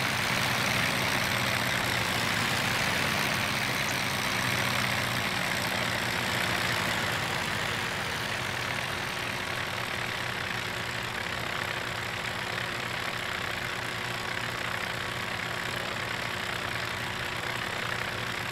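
A Piper PA30 twin engine idles at 1000 rpm in a flight simulator, a steady low droning hum with a faint tonal whine, continuous and unchanging throughout with no voices.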